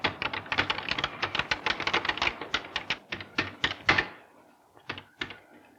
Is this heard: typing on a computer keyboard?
yes